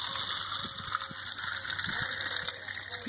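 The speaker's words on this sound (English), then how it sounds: "Alright, time to water that plant." Water pours steadily onto a potted plant in a yard with quail, making a continuous gushing, splashing stream that stays fairly quiet and even throughout with no talking.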